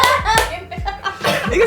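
Several sharp hand claps land in an uneven rhythm, close and fairly loud, mixed with laughter and chuckling from people nearby.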